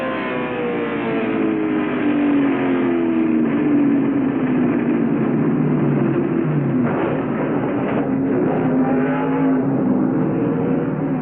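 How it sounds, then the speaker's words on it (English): A NASCAR race truck at the 1996 Cummins 200 at IRP heads back toward the pit, engine droning loudly with a gradually falling pitch amid continuous track noise. "This is Sedgwick's truck headed back to the pit."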